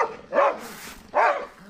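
Two loud, close barks from a female American pit bull terrier, spaced almost a second apart with a soft breathy gap between, no voices present.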